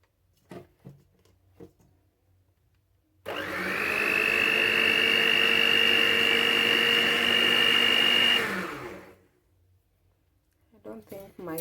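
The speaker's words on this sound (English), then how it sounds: "we are going to mix at low speed for it to be combined well" Stand mixer churning cinnamon roll dough at low speed, a steady loud whirring motor hum with a high whine that runs for about five seconds alone, with brief talk before and after.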